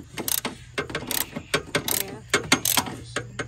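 A ratchet wrench clicks in quick, uneven bursts while turning a bolt on a 2005 Dodge Neon SRT-4 during maintenance, loud and close with sharp repeated pawl clicks and no talk.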